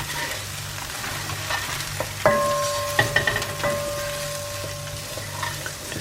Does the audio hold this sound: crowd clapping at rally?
no